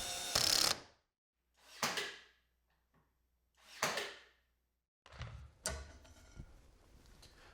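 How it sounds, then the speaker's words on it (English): A self-tapping screw is driven through a wooden corbel on a DIY outdoor bar, giving a few short, close bursts of driver whir with pauses between them, then scraping and handling noise. "because the screw has self-tapping threads, I can hold the corbel in place and then just drive it in."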